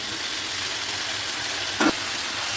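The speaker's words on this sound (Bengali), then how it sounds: "মাছের মাথাগুলো দিয়ে একটু নাড়াচাড়া করে নেবো।" Fish heads are frying with potato and pumpkin masala in a pan for a Bengali ghonto, giving a steady, even sizzle throughout, with one brief scrape of stirring near the end.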